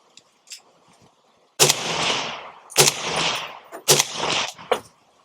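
Three loud 7.62 rifle shots fired through a Rugged Axial suppressor, each a sharp crack with a lingering rush of echo, spaced about a second apart outdoors, with a few faint clicks before the first.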